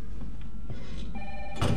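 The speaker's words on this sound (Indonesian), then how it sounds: "Ada telepon." A telephone rings in Resident Evil 3 Remake, a steady electronic bell trill that holds over a low game ambience and swells louder near the end.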